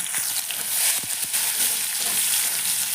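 Nigella seeds and half a small, finely chopped onion hit hot oil with two dried red chillies for tempering, giving a close, steady bright sizzle with a few soft crackles and stirring taps.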